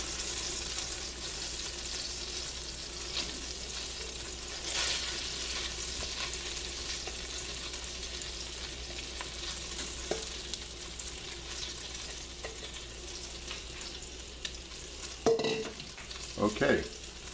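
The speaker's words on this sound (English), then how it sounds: "Put the shrimps in, shake them a little." Shrimp sizzling in a pan of butter and olive oil, a steady close frying hiss throughout with a few sharp clinks and stirring knocks near the end.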